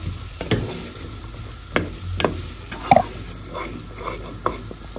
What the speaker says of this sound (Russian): Теперь мы добавили картофель и все тщательно перемешиваем и протушиваем.